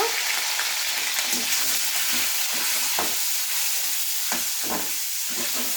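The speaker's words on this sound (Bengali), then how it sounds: "এখন ডিমগুলো ভেজে নিচ্ছে ভালো করে" Eggs fry in a pan with a loud, steady, close sizzle and hiss, and soft scraping stirring sounds come and go underneath, with no talk.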